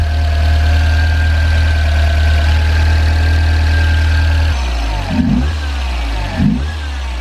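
Toyota MR2 engine with a loud exhaust and a whining fault, idling steadily with a droning tone, then dropping lower and giving two short throttle blips near the end, close and loud.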